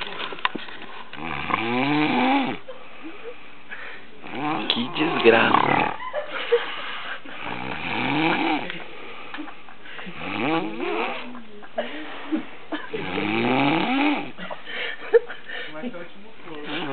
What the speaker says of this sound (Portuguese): Que merda, que ronco.